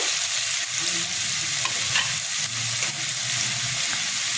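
Potatoes fry in a pan with a dense, close sizzle, while stirring adds scraping and clatter throughout the steady, loud stretch.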